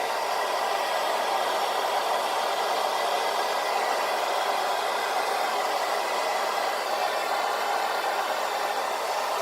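A hair dryer blows on medium heat while drying a beard. It gives a constant close whooshing hum with no change in level.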